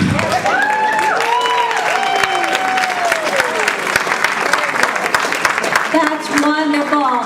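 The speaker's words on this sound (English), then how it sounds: "another round of applause for Tiffany." Audience applause at an adult speaker event, dense steady clapping throughout while a voice talks over it.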